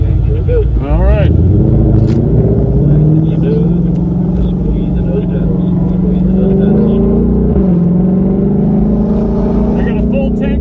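A 2020+ Shelby GT500 drives on a race track, its loud engine droning steadily and rising in pitch as it accelerates, with voices talking over it throughout.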